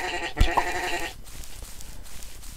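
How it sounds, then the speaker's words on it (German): A sheep in the Minetest game Mine Clone 2 gives a bleat, a short wavering call near the start over quiet game ambience, then fades into soft background sound. "Oh, da gibt es noch ein Schaf."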